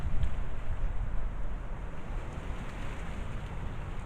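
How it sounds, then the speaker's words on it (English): Gusty wind blows outdoors in a steady low roar, strongest at the start, then easing to a constant rumble with buffeting against the microphone. "the wind starts again"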